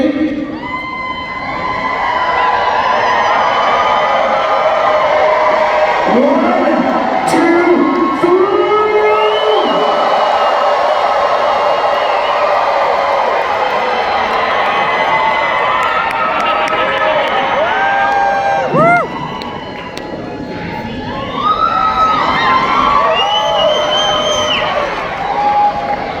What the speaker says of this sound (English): the crowd's gonna go nuts on the count of 3